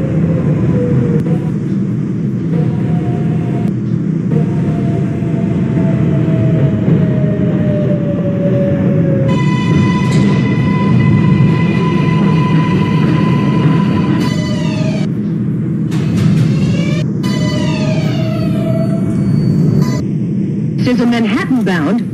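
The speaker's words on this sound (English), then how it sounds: "This is a Manhattan-bound 5 train." An R142A New York subway train running in the OpenBVE train simulator, with a continuous loud rumble of wheels on track and rising and falling electric motor whines as it accelerates and coasts.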